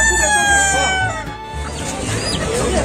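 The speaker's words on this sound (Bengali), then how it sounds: "দাদা এটা ফাইটার মুরগি না?" A fighter rooster at the Galiff Street bird market in Kolkata clucks and calls loudly and close, its harmonic cries fading into the noisy market crowd behind it.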